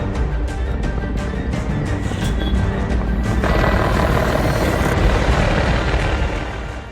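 A helicopter stationed in an Uttarakhand district for the monsoon season, a loud, continuous rotor and engine roar with steady chopping pulses, swelling slightly midway and then fading at the end.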